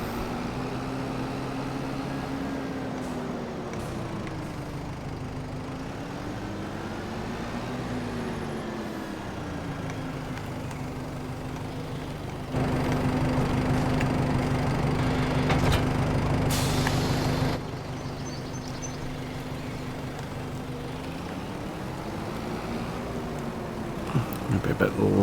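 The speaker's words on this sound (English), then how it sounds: "It's not the most powerful tractor, but it's not as big as cultivator" A farm tractor engine running continuously on an Irish farm during slurry spreading and crop rolling, a close, steady drone with rising and falling revs and a louder stretch partway through.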